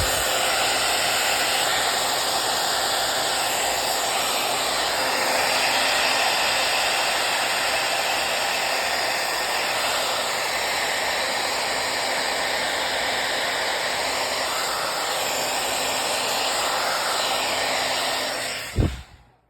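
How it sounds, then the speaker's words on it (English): Blow dryer blasts air over pink paint, a steady loud whooshing roar lasting most of the stretch before it cuts off abruptly near the end, with no talking. "Gonna hit the blow dryer on that pink again"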